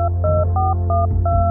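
A telephone keypad dials, sounding a quick series of about five short paired-tone beeps over a steady low hum.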